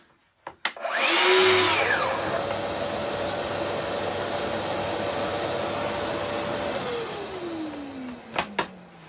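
A dust extractor hooked to a Festool cordless plunge saw spins up with a rising whine, then runs as a loud steady drone. It winds down with a falling pitch, and a few clunks and taps come before and after.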